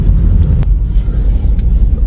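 Heavy, slow-moving road traffic on the highway between Dubai and Sharjah is heard from inside a car as a steady, loud low rumble of engines and tyres, with a few faint clicks over it.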